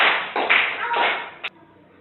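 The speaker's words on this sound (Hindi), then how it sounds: "सभी लोग तालियां बजाएं" Children in a classroom clap for a classmate in a dense burst of applause that swells, dips and fades out within about a second and a half, ending with a single final clap.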